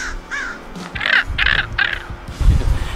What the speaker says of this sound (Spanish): Me gustan mucho los cuervos.